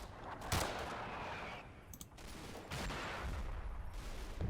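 Small arms fire and mortar blasts in the WWII hedgerow wargame Combat Mission: Battle for Normandy, a steady din of gunfire with a few sharper bursts standing out, fairly faint and distant, with no talking.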